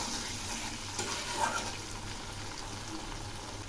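Spice masala fried in oil for a rohu fish curry with ridge gourd and potato is stirred in a pan, giving a steady soft sizzle with scraping strokes throughout, close and fairly quiet.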